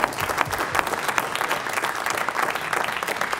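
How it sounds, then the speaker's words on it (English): Full audience applause closes a trademark roundtable, a steady wash of many hands clapping at moderate level with no voices over it. "A round of applause."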